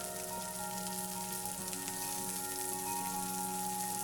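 Chopped onion with salt fries in oil in a pan, a steady close sizzle with a soft crackle, held evenly throughout with no voices.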